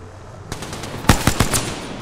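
Video game gunfire in Apex Legends: a few quick, sharp shots, then a tight cluster of loud automatic bursts over about a second, against quiet background.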